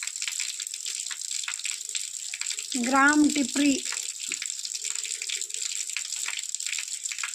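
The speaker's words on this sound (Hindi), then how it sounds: "धारा नहीं, पहाड़ों का पानी, पहाड़ों की धारा।" Mountain spring water from the hills in Garhwal, Uttarakhand, flowing out at a small roadside shrine, a steady broadband rush running through the whole clip while someone speaks briefly in the middle.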